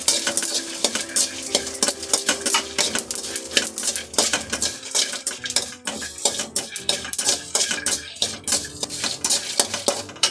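Sesame seeds and dry red chillies frying in a pan, with steady crackle and frequent scraping clinks of a metal spoon stirring against the vessel, close and busy throughout.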